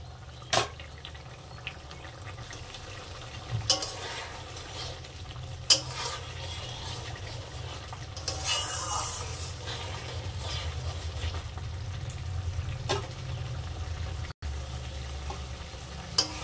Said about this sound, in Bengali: ফের আমি সুন্দর করে একটু ফুটিয়ে নেব